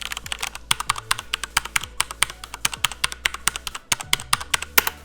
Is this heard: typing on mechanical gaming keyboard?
yes